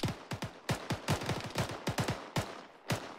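Rapid gunfire in ArmA 3 during a squad firefight: a dense run of close, punchy shots in uneven bursts, some overlapping, with no pause across the stretch.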